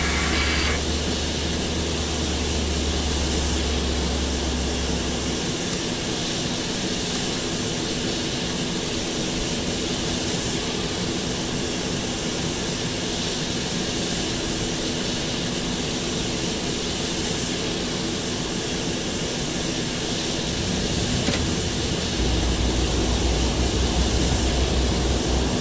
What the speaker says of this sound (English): we got good engine start